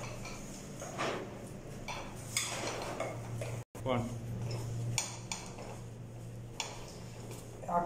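Homemade bread dough mixed slowly by hand in a bowl, giving steady soft clinks and scrapes against the bowl with a faint background hum.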